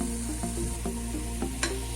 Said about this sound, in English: Now I'm going to add the other ingredients. Add half a teaspoon of turmeric powder.